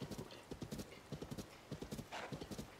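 Horse hooves clip-clop at a steady trot in Zelda: Tears of the Kingdom, a rapid rhythmic string of close, clear hoofbeats with a brief whinny-like swell near the end.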